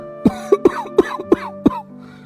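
An elderly man coughs in a rapid series of six or seven hoarse, phlegmy coughs, close up, trailing off into a wheezy breath.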